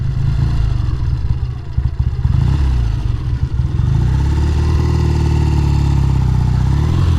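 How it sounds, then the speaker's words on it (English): A 1969 Triumph T120R motorcycle engine runs steadily close by, a loud, continuous twin-cylinder rumble and mechanical clatter holding an even idle with slight shifts in pitch throughout. "One heck of a motorcycle."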